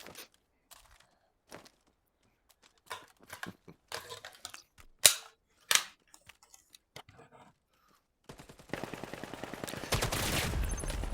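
Gunfire from the VR shooter Vail VR comes as scattered single shots and short bursts, then a denser, louder stretch of rapid fire near the end, with quiet gaps between.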